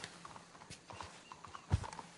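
Horse hooves clip-clop in the Red Dead Redemption II video game, a run of light, fairly quiet steps ending in one heavier, closer thud.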